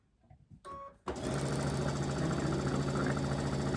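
An old sewing machine stitches quilt fabric, starting after a brief quiet shuffle and then running steadily at a fast, even hum with a rapid mechanical chatter, close and alone.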